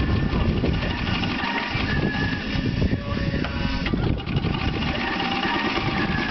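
A golf cart driven slowly by a small child across a field, its engine running steadily and loudly close by, with voices speaking over it.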